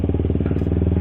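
A Honda CBR K45A motorcycle engine runs close and loud on a test ride, a fast, even pulsing beat with a slight rattle, heard alone.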